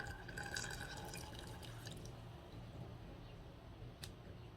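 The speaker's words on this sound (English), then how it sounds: "Then you want to go ahead and add your piping hot water to this" Piping hot water poured onto organic green tea, a soft trickling and dripping stream that is fairly quiet and fades after about two seconds into low background hiss.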